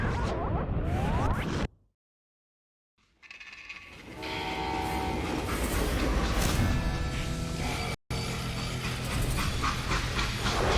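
A freight train runs in the Wild West game Call of Juarez: Gunslinger, a loud, steady rolling rumble with horn-like tones that cuts to silence for about a second early on and drops out briefly again later.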